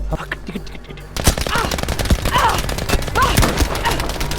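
Rapid gunfire and bursts of automatic weapons fire in the World War II shooter game Battlefield 5, loud and dense with repeated sharp cracks after a quieter opening.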